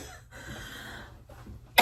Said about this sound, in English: I have the most disgusting sounding cough.